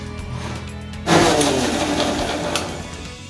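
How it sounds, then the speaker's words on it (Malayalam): An electric mixer grinder whirs to life partway through, blending plum pudding cake batter with sunflower oil and vanilla essence, a loud steady motor drone that dips slightly as it runs. "ഇതൊന്ന് മിക്സിയിൽ ഒന്നുകൂടി കറക്കിയെടുക്കും."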